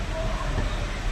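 A passenger train pulls out of Thrissur railway station in rain, giving a steady, loud rumble of rolling carriages with no breaks and no voices.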